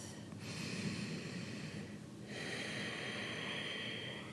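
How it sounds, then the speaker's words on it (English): Slow ujjayi breathing through the nose with a slight constriction in the throat during a cooling vinyasa yoga flow, audible as two long, soft, airy breaths with a brief pause between them, close and quiet. "Engage Ujjayi breath, or victorious breath."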